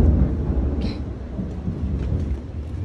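Low rolling thunder rumbles on for several seconds as rain approaches, a deep steady roar with a few faint higher crackles and no talk.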